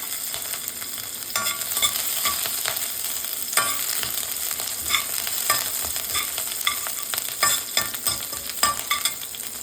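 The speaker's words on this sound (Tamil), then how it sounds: "2 பல்லு பூண்டை இந்த மாதிரி சாப் பண்ணி வச்சுருக்கேன், அது போட்டுக்கலாம்." Chopped garlic and green chili frying in hot oil for broccoli Maggi noodles, a steady crackling sizzle with intermittent stirring scrapes, close and continuous, no speech.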